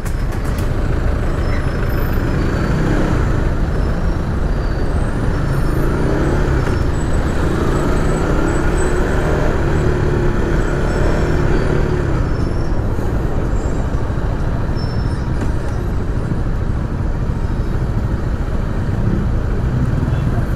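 Steady road traffic surrounds a Honda Supra GTR 150 motorcycle on a test ride, with a dense, continuous rumble of cars, trucks and buses close by and no clear break for the full stretch.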